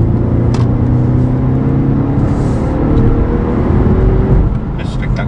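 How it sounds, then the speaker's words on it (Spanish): A 2016 Audi RS7 Performance engine and exhaust drone steadily and loudly from inside the car, a deep continuous rumble with a whirring overtone, while a voice talks over it. "todo el sonido que oímos en el motor es auténtico, es motor, es tubo escape"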